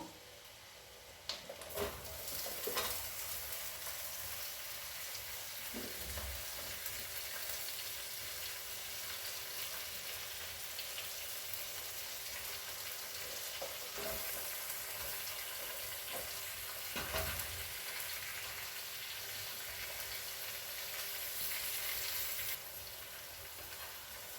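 Green chillies for a Hyderabadi mirchi ka salan drop into hot tempering oil, giving a steady, faint, hissing sizzle that runs unbroken for the whole stretch, with a few brief sharper pops.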